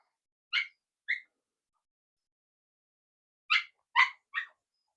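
A dog gives two short barks, pauses for a couple of seconds, then lets out three more quick barks in a tight cluster, fairly close and clear over an otherwise silent room.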